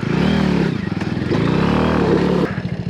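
A motorcycle engine revs and labours loudly and close by on a steep slope, with a rough, pulsing throb that rises and falls as it strains, plus some mechanical clatter.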